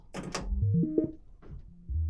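An analog modular synth runs sample and hold into a filter with a hard-synced LFO, producing quick stepped pitch jumps and noisy filtered blips, fairly quiet and alone.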